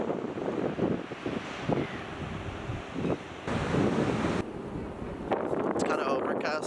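Gusty wind buffets the microphone on a chilly New Zealand beach, with a steady wash of surf behind it and bursts of louder wind noise.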